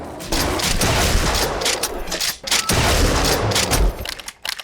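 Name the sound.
shotgun firing in Doom mod GZDoom, video game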